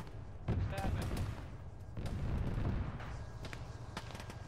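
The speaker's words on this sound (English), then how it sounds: "I just got shot in the leg" Gunfire and explosions crackle in an Arma military combat game with tanks nearby, a burst of sharp impacts followed by rumbling booms and scattered shots, loud and close, while players talk over it.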